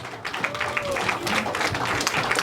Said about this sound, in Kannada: ಅವ್ರಿಗೆಲ್ಲ ಮತ್ತೊಮ್ಮೆ ಜೋರಾದ ಚಪ್ಪಾಳೆ ಪ್ಲೀಸ್.